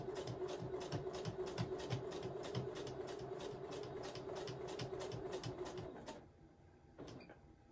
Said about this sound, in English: Stitch that down and then stitch the next one down.